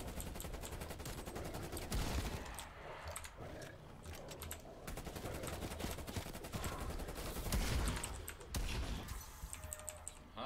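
Sustained gunfire in Call of Duty Cold War Zombies, dense overlapping bursts and clattering shots running nearly continuously, mixed with keyboard clicks and game noise at moderate loudness.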